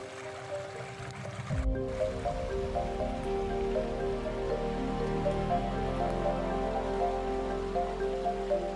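A forest stream flows steadily, its broad rushing wash continuous and fairly close, with tonal background music layered over it throughout.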